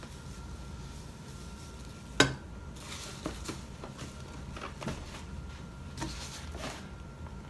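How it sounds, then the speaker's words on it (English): Kelp meal being stirred into potting soil, a gritty rustling scrape with one sharp knock early on and then soft irregular scuffs, fairly quiet over steady background noise. "give it a good stir, mix"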